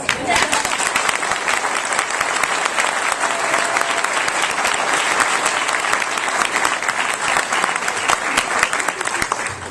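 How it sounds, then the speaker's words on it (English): A crowd at a Republican gubernatorial debate gives sustained, loud applause, dense overlapping clapping with a few scattered cheers, holding steady for the full ten seconds. "One last applause before we get this debate started."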